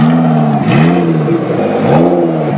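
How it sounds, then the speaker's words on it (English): Lamborghini Aventador SVJ fitted with a Powercraft exhaust revs on a Tokyo street, a loud, steady engine roar with repeated throttle swells close by, and no talking over it. "Got the Powercraft exhaust system."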